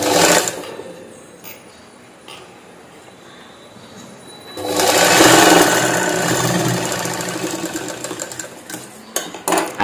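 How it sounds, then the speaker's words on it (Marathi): Electric sewing machine stitching a princess-cut blouse at the shoulder joint, a steady mechanical whir that starts softly, then runs louder and continuous from midway with small clicks near the end. "आणि आता दुसरी शिलाई पक्की मारून घ्यायची."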